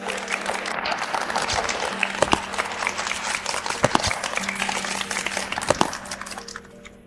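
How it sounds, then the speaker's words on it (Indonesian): Audience applause for the bride at an engagement celebration, a dense steady patter of many hands with a few sharper claps and faint background voices, fading slightly at the end. "Mari kita berikan tepuk tangan meriah untuk pengantin malam ini"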